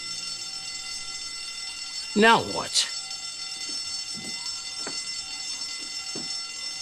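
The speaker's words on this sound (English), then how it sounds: "She pulled the fire alarm." A pulled fire alarm rings on in steady electronic tones throughout, while voices briefly speak over it.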